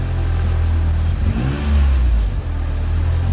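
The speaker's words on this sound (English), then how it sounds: "See if it'll start with a little bit of revving." A car engine with a rod knock idles roughly and revs up, a steady low mechanical rumble swelling briefly before settling, close and loud.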